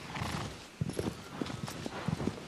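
Horse hooves clip-clopping in the remastered Shadow of the Colossus video game: a steady walking rhythm of soft, hollow hoof thuds over a low, breezy ambient bed.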